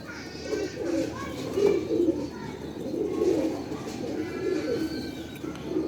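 Pigeons coo in soft, repeated throaty rolls, close by and overlapping steadily throughout, with faint chirps in the background.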